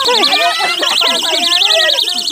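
Steady oscillating electronic alarm tone, rising and falling rapidly throughout, with voices speaking underneath.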